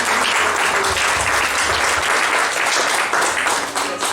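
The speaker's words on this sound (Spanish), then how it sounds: "Dale una ofrenda de palmas fuertes a Jesús" A church congregation claps loudly for Jesus during a Spanish-language service, a dense, sustained burst of many hands applauding together without a break.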